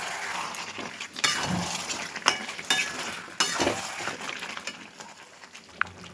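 Chicken being stirred in a pot after the lid comes off: scattered clinks and scrapes of a utensil against the metal over a soft sizzle, several louder knocks spaced through it, fairly close.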